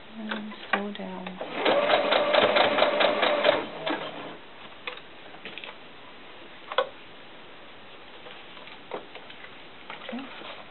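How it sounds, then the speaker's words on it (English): A sewing machine stitches down the ruffle of a doll skirt in one quick, steady run of about two seconds, close and clear, followed by quiet handling of fabric and pins. "let's even that ruffle out there and sew down"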